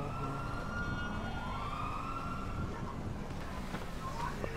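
A police car siren wails at a moderate distance, rising and falling steadily under a rumbling background of traffic noise.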